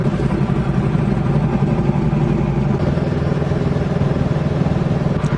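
A motorcycle rolls slowly at about 30 km/h through Heidelberg, its engine a loud, steady low rumble with constant throb and no talking.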